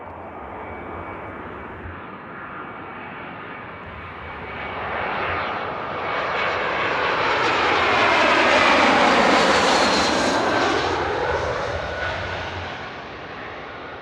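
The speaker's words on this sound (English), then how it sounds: "you can really hear the wake turbulence here" Airliner landing at Frankfurt Airport, a broad jet roar that swells as the plane passes close overhead and then fades, with the rumbling, swirling wash of wake turbulence trailing behind and no voices.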